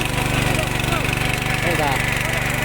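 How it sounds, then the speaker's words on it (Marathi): Tractor ploughing a muddy rice paddy, a steady low engine drone with pulsing rhythm, close and continuous, with faint voices in the background. "बघा ट्रॅक्टरवर कशी नांगरणी करतात ती"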